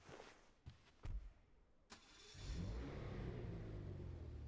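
A few clicks and thumps, then a Japanese car engine in GTA 5 turns over and settles into a steady, low idling rumble.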